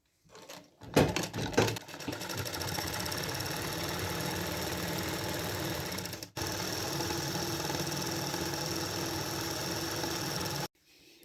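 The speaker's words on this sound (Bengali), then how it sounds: "এখন আমি সাইডে আরেকটি সেলাই দিয়ে দেবো," A sewing machine stitches the side seam of a petticoat, running in a fast, steady mechanical whir close by. It starts after a few uneven bursts, pauses briefly midway, resumes, then stops abruptly near the end.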